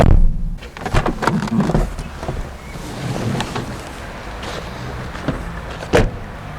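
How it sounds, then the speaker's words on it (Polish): Doors of an old Mercedes W126 car shutting, with a solid thud near the start and another near the end amid soft mechanical rustling, close and with no talking. "Zobaczcie, usłyszcie w zasadzie jak się zamykają te drzwi."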